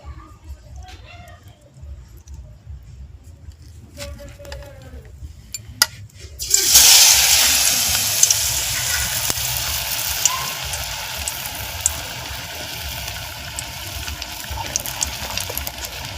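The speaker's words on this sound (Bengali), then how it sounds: "এভাবে প্রত্যেকটা ছেড়ে ভেজে নেব।" Battered boiled taro pieces hit hot oil and burst into a loud, steady hiss of frying that begins partway through and keeps going, with a voice talking quietly before it.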